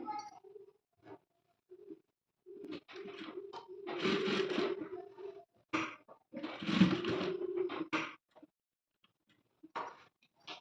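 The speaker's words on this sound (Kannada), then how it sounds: "ಸೆಟ್ ಮಾಡಿಕೊಂಡು ಈ ರೀತಿ ಸ್ಟಿಚ್ ಮಾಡಬೇಕಾಗುತ್ತೆ" A sewing machine stitches a high school uniform in several bursts of whirring, stopping and restarting close by, with short taps and clicks between runs.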